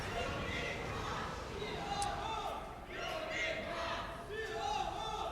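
A crowd of esports fans in a Berlin arena, gathered for a League of Legends match between Unicorns of Love and Giants, cheers and yells steadily throughout, a dense roar with scattered shouts rising and falling.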